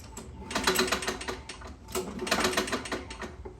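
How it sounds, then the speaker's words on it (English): Rapid mechanical clicking rattles in two bursts over a low running 4.5 Tecumseh engine on a Craftsman lawn mower, fairly quiet and close, with no talking. "I pulled this thing over, and I hear a clicking noise"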